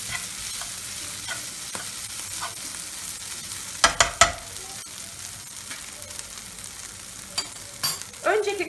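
Homemade chicken döner strips fry and sizzle in butter in a pan, with a steady soft crackle broken by several sharp clatters of stirring and scraping against the pan.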